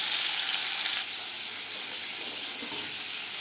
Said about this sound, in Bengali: এবার দিয়ে দেবো ম্যারিনেট করে রাখা মাছ